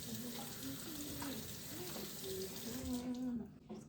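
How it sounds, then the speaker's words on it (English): A spatula is rinsed under a running hot water tap while making a flourless yule log, giving a steady close hiss of flowing water that cuts off near the end. Voices murmur faintly underneath. "I'm gonna run my spatula under hot water so that it doesn't stick."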